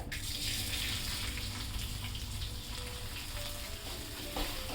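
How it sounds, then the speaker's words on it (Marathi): Rice frying in ghee with spices, a soft continuous sizzle and hiss at close range with faint stirring, fairly quiet and without talk. "हे तांदूळ आहे ना तुपामध्ये चांगले व्यवस्थित फ्राय करून घ्या"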